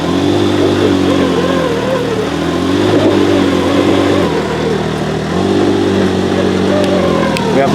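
A vehicle engine idles and rumbles loudly nearby while it backs out of a garage and pulls onto a trailer, with gentle revs rising and falling over a low steady drone and no talk.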